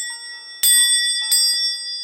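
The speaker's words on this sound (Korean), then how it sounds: "종소리가 한 번 울리면" A signal bell rings out with a bright metallic strike that leaves a sustained ringing tone. A second, softer strike follows shortly after in an otherwise quiet room.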